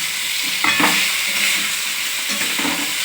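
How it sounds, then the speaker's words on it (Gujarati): Mustard seeds and curry leaves sizzle loudly in hot oil as a tempering for dhokla, a bright steady frying hiss with a few crackles and spoon stirs, close up and without voices. "જો લીમડો ને રાઈ નાખીને આવી રીતે વઘારી લેવાના છે।"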